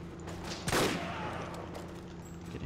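A burst of video game gunfire hits once near the start, a short sharp crack that fades into a long hissing tail, followed by quieter muffled battle ambience.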